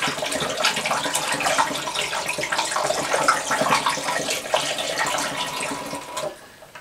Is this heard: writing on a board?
no